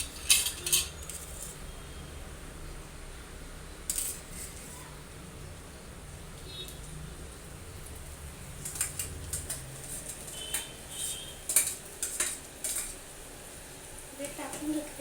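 Boiled potato being sautéed in a pan with asafoetida and turmeric, with soft scattered clinks and scrapes of a spoon against the pan under low background noise, a few sharper metallic taps clustered near the end.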